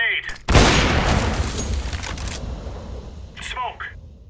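A grenade goes off in CS:GO, a sudden loud close blast with a long decaying rumble, followed by brief voices over the game noise.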